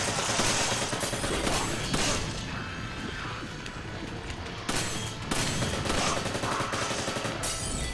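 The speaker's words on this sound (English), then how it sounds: "Heavy machine gun!" Heavy machine gun fire in the Resident Evil 5 Desperate Escape game, a dense, loud, continuous rattle of shots with brief dips, mixed with other game noise and no talk.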